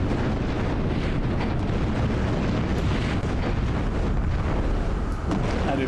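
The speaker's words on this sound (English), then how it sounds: "It's pretty funny that you get all this explosions, all these bullets hailing on you." In the video game Project Nomads, dense, loud explosions and cannon fire roar without pause, a thick wall of booming blasts and rumbling noise with scattered sharper cracks.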